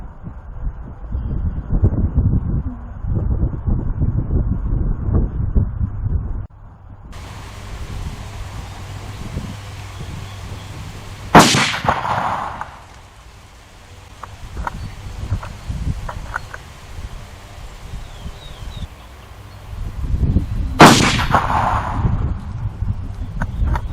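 Two sharp rifle shots from a Ruger American 5.56 firing Wolf .223 ammunition, widely spaced, each a loud crack with a brief tail, set against outdoor wind and rustling.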